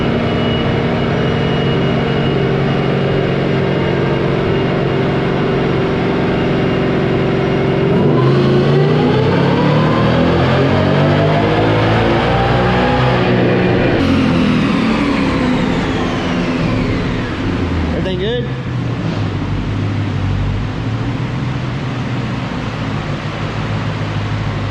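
A 2019 Ford Mustang GT V8 with a Whipple Stage 2 supercharger runs a loud, steady dyno pull, its engine note rising and swelling through the revs before easing off near the end.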